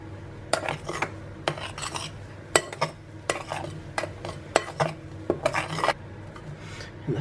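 Coconut flour is folded into whipped sponge cake batter in a bowl, producing repeated scraping, rasping strokes and occasional utensil clinks against the bowl, fairly close and quiet.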